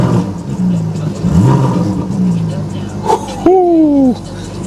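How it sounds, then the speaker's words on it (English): A manual Porsche engine with a roll cage fitted rumbles and revs up near the mic while voices talk over it, one quick rising rev standing out near the end. "I'm gonna give it a little rev"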